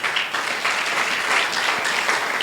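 A church congregation bursts into loud, sustained applause during a sermon, dense clapping filling the room evenly with no voices on top.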